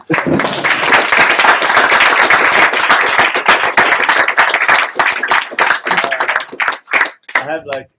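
An audience at a hackathon talk in Helsinki applauds with dense, rapid clapping that fades into scattered claps, with a voice speaking briefly at the end.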